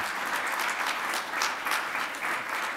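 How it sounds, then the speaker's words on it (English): A crowd at a 2018 Stevenson Athletics Hall of Fame induction ceremony applauds the inductees, a dense, even wash of clapping heard from a distance, fairly soft and steady throughout. "So can we give them a round of applause?"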